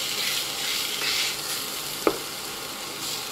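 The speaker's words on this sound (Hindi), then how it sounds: "खूब अच्छे से हम आलू को फ्राई करेंगे इन मसालों में।" Potatoes for dabeli fry in spices with a dense, steady sizzle throughout, close and fairly loud, broken by a single sharp knock of a utensil partway through and no talking.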